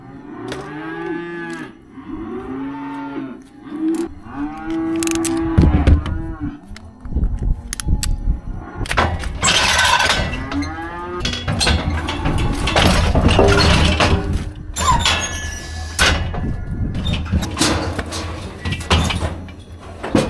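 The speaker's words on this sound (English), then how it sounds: "Cows and calves are so loud when you're weaning them that you can feel it." Cows and calves bawling loudly during weaning, a dense chorus of overlapping moos and bellows from many animals close by, continuous and raucous with no talk.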